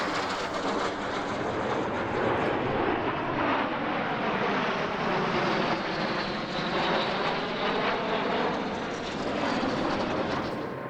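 An L-39 Albatross classic jet at the EAA AirVenture Oshkosh 2018 airshow, a sustained droning engine roar with a slowly shifting whine as the aircraft flies past.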